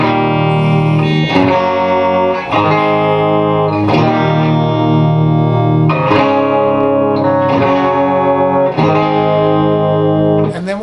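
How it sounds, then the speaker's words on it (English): Distorted electric guitar strums the heavy intro chords of a song, ringing sustained chords struck about every couple of seconds with effects and reverb, loud and steady throughout with no voice. "then they kind of slow things down and they do those intro chords"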